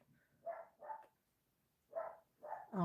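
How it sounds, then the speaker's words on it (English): A rescue dog barks indoors in two short pairs of yaps with a pause between them, fairly close and alone. "She's barking at nothing because there's nothing happening."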